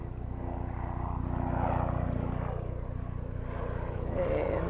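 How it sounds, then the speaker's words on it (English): A helicopter passing overhead outdoors on a hilltop in Auckland, a steady low droning rotor hum that swells slightly and holds, with faint wind and ambient noise around it. "Look, chopper going overhead."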